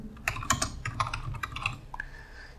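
Typing on a computer keyboard at a Linux terminal, a close, quick burst of crisp key clicks with brief pauses, moderately quiet and without talking.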